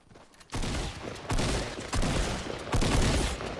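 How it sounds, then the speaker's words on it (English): Video-game gunfire in Fortnite Battle Royale comes as four loud, dense bursts in quick succession, each swelling and then carrying over into the next. "if you can time your shots and like, especially in shotgun and sniper battles"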